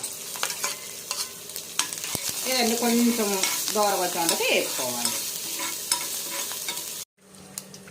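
Tempering of ginger, green chilli and curry leaves frying in oil and stirred, a loud close sizzle with repeated spatula scrapes and clicks, someone speaking over it, then abruptly cut off near the end.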